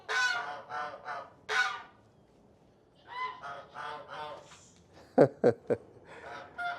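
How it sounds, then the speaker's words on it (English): Geese honk repeatedly in loud, nasal bursts, with several quick sharp calls close by and pauses of quiet between groups. "But all this noise you're hearing are these geese"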